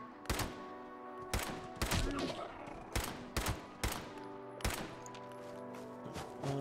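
Pipe pistol gunfire in the video game Fallout 76: a run of sharp, loud shots spaced irregularly, some in quick pairs, each ending with a short ringing tail.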